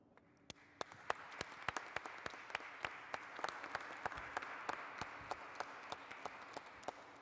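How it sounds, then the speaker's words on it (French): A small congregation applauds during a Christmas midnight Mass in a church: sparse, distinct individual claps ring out faintly and somewhat distant, building slightly after the first second and continuing steadily. "Nous pouvons nous applaudir, non?"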